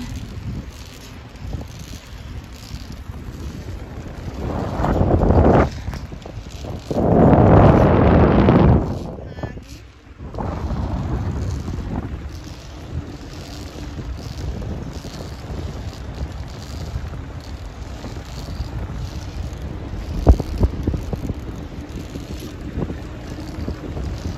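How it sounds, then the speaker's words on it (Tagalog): Strong wind and rain on the long Tibetan suspension bridge at Sellano, steady rushing gusts with louder roaring bursts hitting the microphone, voices talking intermittently throughout. "Umuulan. Malakas ang hangin."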